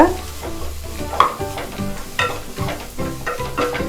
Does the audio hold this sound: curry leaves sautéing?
yes